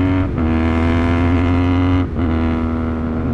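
Loud, close exhaust note from a factory Benelli car with the catalytic converter removed, a sustained engine drone broken by two brief dips, the first early and the second around two seconds in, with no talking.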